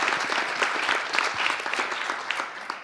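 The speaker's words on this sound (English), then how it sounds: "please keep on applauding" An audience applauding at an impact investment summit in 2018, a dense, sustained burst of clapping from a sizable crowd, loud and steady throughout with no voices over it.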